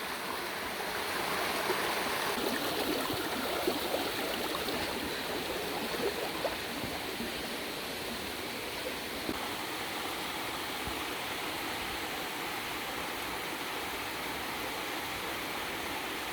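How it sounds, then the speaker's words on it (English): Stream water flowing at a river crossing on a permaculture farm in New Zealand, a continuous rushing hiss that holds steady for the whole stretch at moderate distance, with no voices. "We might have to go through a river. It's a river crossing."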